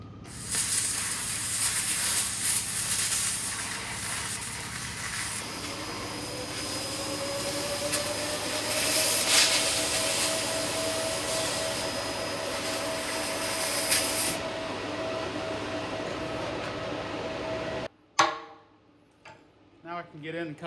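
A modern laser cutter runs through 100-year-old steel with a continuous harsh hiss and a rising whine, then cuts off abruptly near the end, leaving a few quieter clatters.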